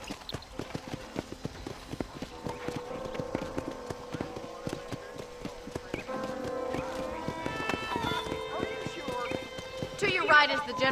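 Horse hooves clip-clop in a steady walking rhythm in the video game Red Dead Redemption while people talk over them, with a brief whinny-like sound near the end.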